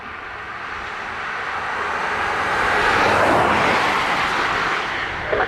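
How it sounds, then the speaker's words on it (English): A Ryanair jet landing at Dublin Airport roars in a broad engine rush that swells to a loud peak midway as the plane passes close, then eases slightly, with no voices. "Ryanair from Kerry will be next to land."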